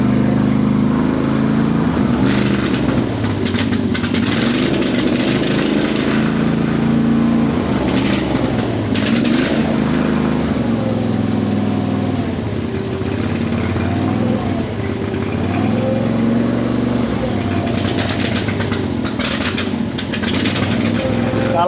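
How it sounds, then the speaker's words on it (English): The V-twin engine of a CFG HR230 three-wheeled loader runs continuously up close with a loud, rough exhaust note that rises and falls slightly as it is revved, with voices partly audible over it. "I just wanted to share the exhaust note of this thing."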